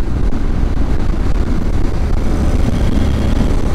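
Engine of a Honda X-ADV 750 motorcycle at Interlagos, a loud, continuous low rumbling roar with wind buffeting, steady throughout with no talk.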